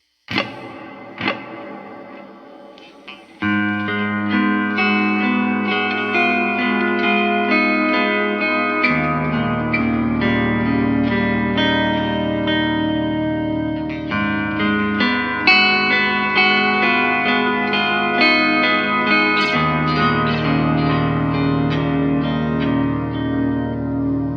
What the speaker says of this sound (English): I'm using a Flint reverb and a tape delay.